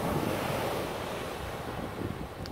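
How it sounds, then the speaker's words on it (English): Ocean waves wash steadily onto a beach where a child plays in the water, a continuous loud surf roar mixed with wind buffeting the microphone, no voices heard. "It's my son's playing in the water."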